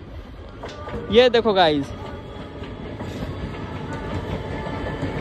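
A train runs along railway tracks near a bridge over water-filled surroundings, its rumble carried steadily through the whole stretch, with a brief tonal, horn-like swell early on and someone talking over it.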